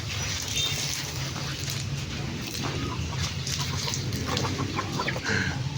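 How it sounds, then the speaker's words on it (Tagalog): Chickens cluck steadily around a newly moved-into house, pecking about, with a continuous busy background of farmyard noise and occasional sharper calls throughout. "ang mga pasaway na manok dahil nanunuka"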